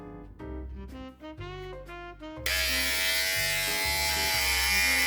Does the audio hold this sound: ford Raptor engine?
no